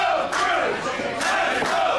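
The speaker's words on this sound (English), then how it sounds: "Crowd solidly behind Brick City." A wrestling crowd at an independent tables match roars and cheers loudly, a dense wash of voices that swells in repeated surges.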